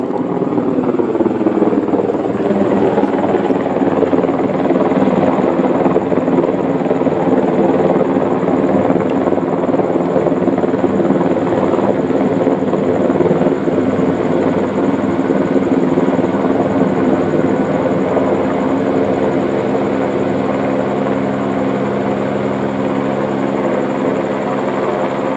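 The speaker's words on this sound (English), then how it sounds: "Listen to the difference in the rotor blades." Helicopter hovering directly overhead, its rotor blades producing a loud, steady, unbroken thumping drone that holds constant for the whole stretch, with no voices.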